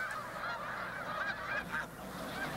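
Snow geese honking on Assateague Island during fall migration, a flock's overlapping nasal calls repeating irregularly, fairly distant and moderately faint over a soft background hiss.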